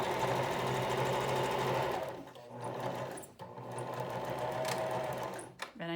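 A sewing machine runs steadily as it back stitches a fabric face mask, a close, continuous whir that pauses briefly and then resumes for another run of stitching.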